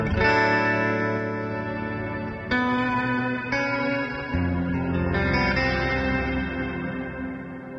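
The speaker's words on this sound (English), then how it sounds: "the Shimmer Reverb" Electric guitar notes played through a Walrus Audio Descent shimmer reverb pedal ring out one after another into a lush, shimmering reverb, each chord swelling with bright high overtones that trail off slowly.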